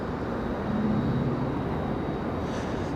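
A Boeing 787-9 Dreamliner at Raleigh Durham airport produces a steady, moderately distant jet engine roar and rumble that holds even throughout, without any voices.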